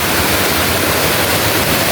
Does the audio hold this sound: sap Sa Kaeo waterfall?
yes